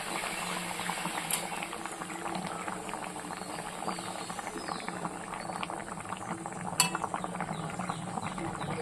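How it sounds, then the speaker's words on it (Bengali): Thinly sliced fish boiling in a curry: a steady, close bubbling and simmering with a few faint clinks, and no one talking. "মাছগুলো যেহেতু খুব পাতলা পাতলা কেটেছে, বেশিক্ষণ ফোটাবো না"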